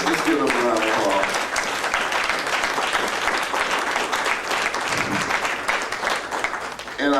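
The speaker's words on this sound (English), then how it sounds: "Let's give them a round of applause." A conference audience at an opening session applauds board members, steady loud clapping filling the whole stretch with some crowd voices mixed in.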